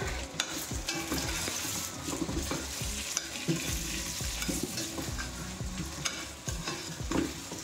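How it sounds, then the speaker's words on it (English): Spices, ginger, garlic and potatoes sizzling and frying in a pot while a spoon stirs and scrapes repeatedly, close up and moderately loud, with no voices. "Okay, and I'm just going to stir it all in."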